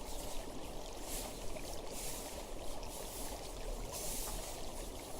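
A quiet, continuous rush and trickle of a flowing river, steady and soft with no voices.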